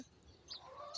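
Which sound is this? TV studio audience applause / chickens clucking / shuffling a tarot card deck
chickens clucking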